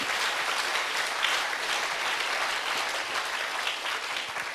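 A church congregation breaks into sustained applause, a dense and even roar of clapping that stays loud throughout, with no voices standing out.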